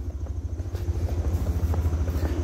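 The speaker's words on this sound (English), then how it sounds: "don't tell me they called a Tacoma Park helicopter out" A helicopter passes over Takoma Park, Maryland, its rotor producing a steady, rhythmic low thudding that stays loud throughout, with no voices.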